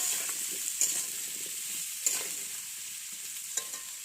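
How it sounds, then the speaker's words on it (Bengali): Raw potatoes salted and fried in a pan give a steady, close hiss of sizzling oil, broken by several distinct scrapes and clinks of stirring, with no speech. "একটু লবণ দিয়ে দিল এবারে ভালো করে এটাকে নেড়ে লাল লাল করে ভেজে নিতে হবে"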